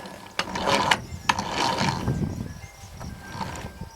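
A 1990 Jeep Cherokee transfer case with chain problems inside is turned by hand, giving close, irregular metallic clunks, ratcheting clicks and grinding over several seconds.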